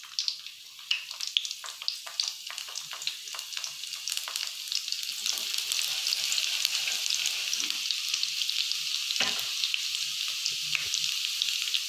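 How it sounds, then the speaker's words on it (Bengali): Chopped garlic and garam masala frying in hot oil for soya keema, a continuous close crackling sizzle with scattered sharp pops and a brief scrape of stirring, steady throughout without talk. "গরম মশলাগুলো একটু নাড়াচাড়া করে এর মধ্যে আমি রসুন কুচিটা দিয়ে দেবো।"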